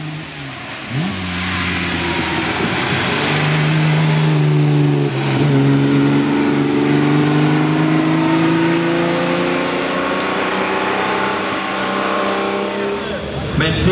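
Vintage racing car at the Rossfeld historic hillclimb accelerating through rising gears, engine note climbing and swelling as it passes near, while a commentator talks over it throughout.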